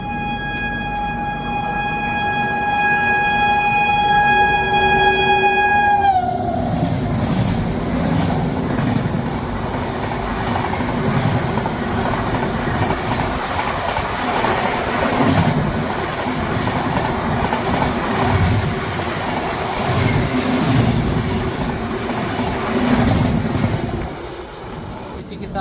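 The Pushpak Express rushes past at high speed, opening with a long sustained horn blast that bends downward, then a steady roar of wheels and rhythmic clickety-clack of passing coaches for over twenty seconds.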